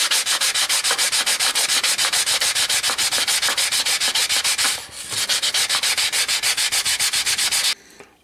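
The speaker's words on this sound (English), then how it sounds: "get some piece of 400 wet and dry and give this a good clean up." A metal maker's plate scrubbed with 400 grit wet and dry paper gives rapid, evenly rhythmic back-and-forth sanding strokes, loud and close, pausing briefly midway and stopping shortly before the end.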